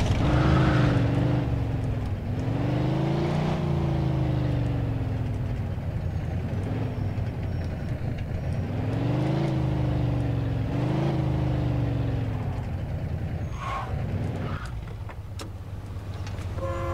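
A car engine in the Mafia 2 video game drones and revs steadily while driving, rising and falling in pitch with gear changes, loud and continuous without any speech.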